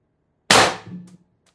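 A single sharp report from a Mercury Rise IntruBuster Gen 2 PCP air gun fed by a tethered 48ci tank at 800psi, a loud close crack that fades quickly, with a faint tail after it.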